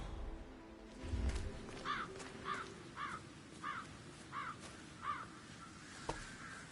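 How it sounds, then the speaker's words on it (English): Crows caw in a steady run of six evenly spaced, moderately distant calls over a low outdoor rumble, with no talking. "I'll never get rid of those stupid birds."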